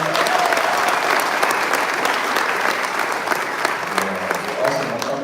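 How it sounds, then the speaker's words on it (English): Audience applause at a congressional town hall and resource fair, a steady, full-room roar of clapping that holds throughout, with faint voices mixed in. "our vendors another round of applause"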